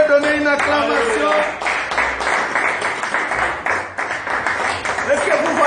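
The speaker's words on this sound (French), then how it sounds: "Est-ce qu'on peut donner une acclamation?" A church congregation applauds during a Sunday service, a dense continuous patter of clapping from many hands that runs under a voice speaking over it.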